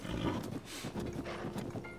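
Horse sounds from the video game Zelda: Tears of the Kingdom, with a rider dismounting, including soft hoof clip-clops and low snorting over a continuous game background, moderately loud for two seconds.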